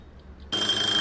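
Kitchen timer alarm in Cooking Simulator starts abruptly after a short quiet lead-in, a loud steady high-pitched ringing tone that holds to the end.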